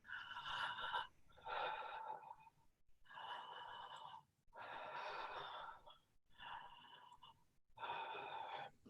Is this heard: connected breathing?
yes